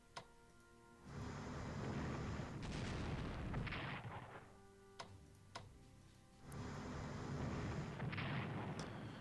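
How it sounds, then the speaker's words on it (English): Battleships firing at an American carrier in the Strategic Command WWII strategy game: heavy booming salvos in bursts, with sharp cracks and ticking effects between them. "We have detected an American carrier. So we're going to try and destroy it with our battleships first."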